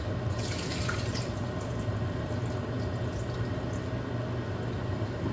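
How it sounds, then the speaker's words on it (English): Continuous rushing water pours and splashes steadily as soaking water is drained from potatoes into a sink, with no voices. "Drain in the water first."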